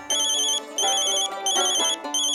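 A electronic phone ringtone plays a bright repeating melodic pattern, loud and close, in short bursts with brief gaps between them.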